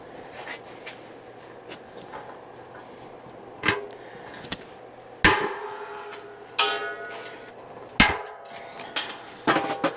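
Pop rivets snapped in place while fitting a part on a DIY maple syrup filtering vacuum rig: several sharp, close metallic snaps at irregular intervals over a quiet background, with no talking.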